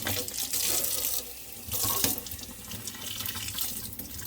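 Tap water runs into a sink, rinsing conditioner out of a Monster High Ghoulia doll's hair, a close gushing stream broken by a brief lull and then strong, splashy bursts as the hair moves under the flow.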